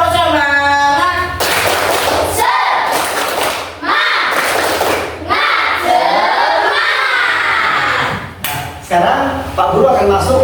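A primary school class at an Islamic religious education lesson performs a rhythmic spirit clap, bursts of group clapping and shouted chanting in a patterned sequence, loud and close, with children's voices between the clap sections.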